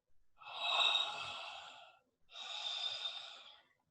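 Two long, deep breaths during a guided breathwork session, each a broad airy rush of inhaled or exhaled air lasting over a second, separated by a brief pause, close and fairly soft with no talking.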